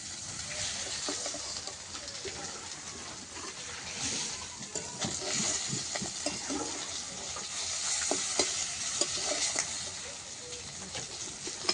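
Fish frying in a kadai gives a steady, dense sizzle and crackle that carries throughout, with occasional stirring clatters and no talk over it.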